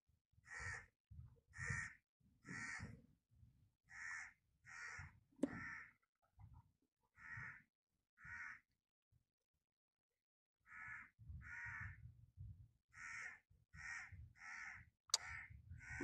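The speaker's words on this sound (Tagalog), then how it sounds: "Maingay yung uwak ah." Crows on Murjan Island near Dammam caw repeatedly outdoors in loud, harsh bursts, one after another in uneven runs with a short quiet gap in the middle, close by and dominating the scene.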